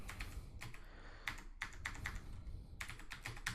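Keys clatter on a computer keyboard as code is typed, quick clustered taps in short bursts with pauses, quiet and close.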